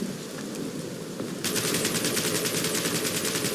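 In Marvel's Guardians of the Galaxy, after a short hiss of ambience an enemy opens up with rapid automatic gunfire, a fast, evenly spaced rattle of shots that keeps going loud and steady to the end.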